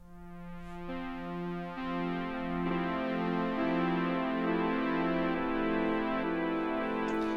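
Pulse width modulation synth chord fed through a Strymon Timeline shimmer delay, sustained tones layering and building as pitch-shifted repeats stack up, soft and smooth with no voices.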